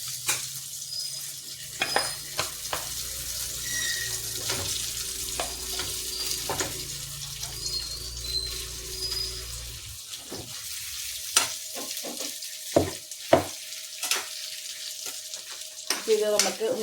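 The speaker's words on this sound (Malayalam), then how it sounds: "ഇത് നമുക്ക് ഒന്ന് ചെറുതായിട്ടൊന്ന് ഫ്രൈ ചെയ്തെടുക്കണം." Marinated chicken pieces frying in a pan in a home kitchen, a steady soft sizzle running underneath with scattered stirring clinks and utensil taps, getting sharper and more frequent toward the end.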